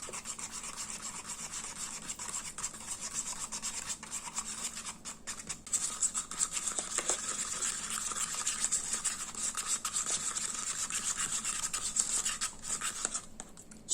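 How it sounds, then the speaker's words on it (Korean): Red bean powder is stirred steadily into a soap mixture, a continuous close scraping and rubbing against the bowl for several seconds that grows a little louder partway through. "얘를 엉키지 않게 잘 섞어주세요."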